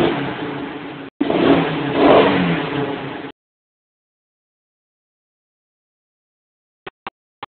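Car engine fitted with a spark plug enhancer, revving hard in a loud rising roar for about three seconds with a brief cut in the middle, then silence and three faint clicks at the end.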